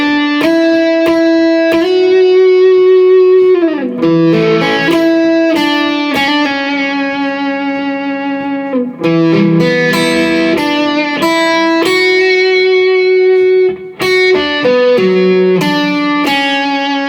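An electric guitar plays a line from a piece from The Last of Us, in sustained and plucked notes with a few quick runs, loud and clear, with no voices.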